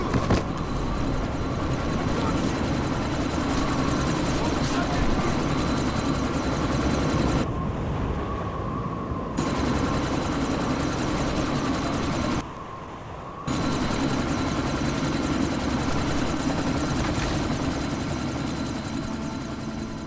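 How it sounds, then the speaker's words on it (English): A helicopter in the video game Deus Ex: Mankind Divided, heard as a steady, loud rotor and engine drone during a sandstorm, with two brief dropouts where the sound cuts away. "you need to disable that chopper!"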